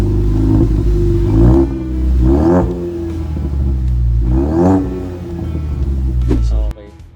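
Car engine revved during a check at a shop, several rising and falling rev surges over a low rumbling idle, loud and close, with people talking over it.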